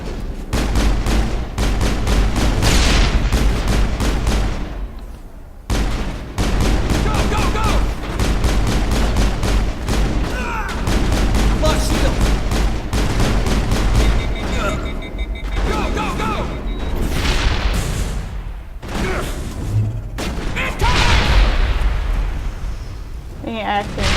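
Dense gunfire from a firefight in Mass Effect, with rapid weapon bursts and impacts layered over game music and voices speaking throughout.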